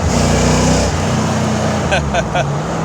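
A 1989 Ford Mustang downshifts into second gear, its engine note steady and then shifting pitch from inside the cabin, loud and close, while someone talks.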